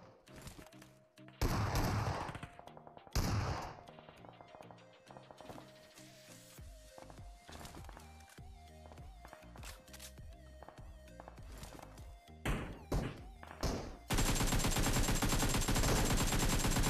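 Shotgun fire in the game PUBG, loud blasts and bursts scattered over a busy mix of game sounds, clicks and footsteps, ending in a sustained harsh noise.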